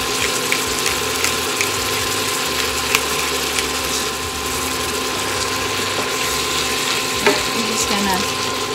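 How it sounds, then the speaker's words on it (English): Stuffed portobello mushroom filling with softened tomato sautéing in a pan for keto stuffed mushrooms, giving a steady continuous sizzle with occasional scrapes and clinks, while a voice briefly speaks over it. "saute these together. Leave this for a couple of minutes in the pan."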